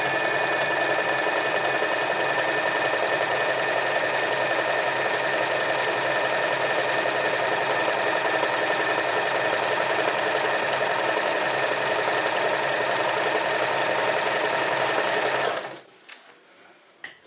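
An overlock sewing machine stitches fabric in a steady, fast, loud mechanical whir for about fifteen seconds, then stops abruptly and leaves near silence with a faint click.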